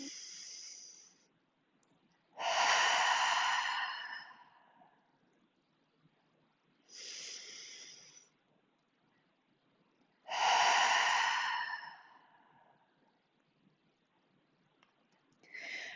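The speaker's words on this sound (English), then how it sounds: "we'll breathe in through the nose and exhale out the mouth" Deep cleansing breaths during a yoga flow, four slow, close breaths with long gaps between, drawn in through the nose and released through the mouth.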